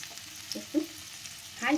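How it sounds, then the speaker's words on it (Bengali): Chicken pieces fry on medium flame in oil left from browning onions for chicken roast, giving a soft crackling sizzle with a few light stirring scrapes, faint and close. "মিডিয়াম ফ্লেমে রাখবো চিকেনগুলো ভেজে নেব হালকা করে ভেজে নেবো"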